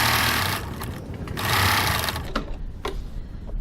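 An electric sewing machine stitches a crossbody bag, running in two loud bursts with a pivot pause between them, then tapering off into light clicks and handling noises.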